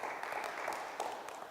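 A school audience at an oratorical competition applauds, a faint but steady patter of many hands clapping at a distance.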